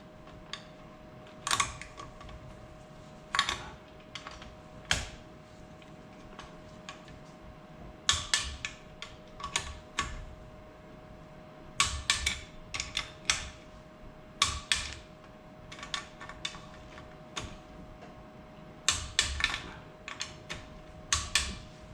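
A torque wrench works bolts on a Kawasaki KFX 450R in a crisscross pattern toward 15 foot-pounds, giving close, quiet bursts of sharp ratcheting clicks separated by short pauses.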